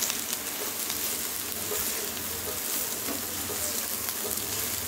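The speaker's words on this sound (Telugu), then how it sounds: "కారం మొత్తం ముక్కలు పట్టే వరకు తిప్పాలి." Raw banana pieces coated in chili powder stir-frying in a pan, a steady dense sizzle with faint stirring scrapes running continuously, no voices.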